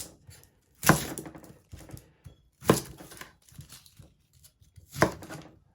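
Vegetables for a hearty stew are chopped in a few sharp, spaced knife strikes, close and crisp, with softer cuts and rustles between them and no talk.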